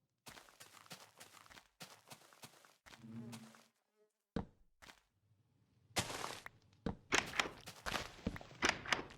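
Bees buzz in a Minecraft survival game, short irregular insect buzzes mixed with game thunks and footsteps, coming in bursts with brief silences between.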